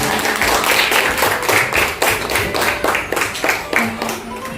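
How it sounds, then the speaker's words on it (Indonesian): Classroom applause for a pupil, a burst of irregular hand claps from children filling the room, steady and fairly loud for a few seconds. "Tepuk tangan dulu buat Naura."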